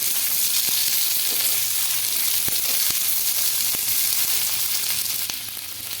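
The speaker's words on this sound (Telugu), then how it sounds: "టమాటో ముక్కలు కూడా వేసుకుందామండి ఈ టమాటో ముక్కలు కూడా బాగా మగ్గాలి" Ginger, tamarind and tomato pieces frying in a pan give off a steady, close sizzle, broken by a few sharp clicks of a utensil against the pan before the hiss softens slightly at the end.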